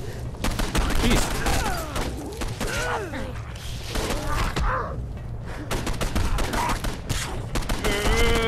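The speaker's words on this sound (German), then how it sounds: "Wir werden von allen Seiten beschossen" Heavy gunfire pours in from all sides in Condemned 2: Bloodshot, dense overlapping shots and bursts crackling almost nonstop at close range, with someone talking over the chaos.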